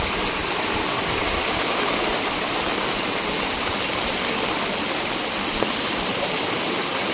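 Heavy rainwater rushing and flowing steadily after a downpour in a Tamil Nadu village, a loud, continuous broadband wash like a stream that fills the whole stretch without pause.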